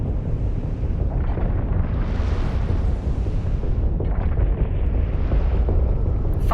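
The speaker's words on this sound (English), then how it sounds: "Fire at will, Captain. Make sure to use both of your guns." Spaceship guns and explosions in the video game EVE Online, a continuous heavy rumbling roar of blasts swelling and easing, loud and dense, with no talk.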